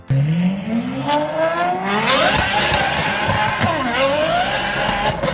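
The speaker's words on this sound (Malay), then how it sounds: "Dia purely V12 yang bunyi dia memanglah sangatlah sedap tuan-tuan" A V12 car engine revs up and down loudly, its pitch climbing and falling in sweeping runs, close and continuous with a rough mechanical roar.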